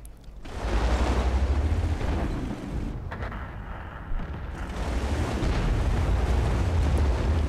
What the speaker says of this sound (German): Und hier der Killshot vom Fruchtzwerg im VK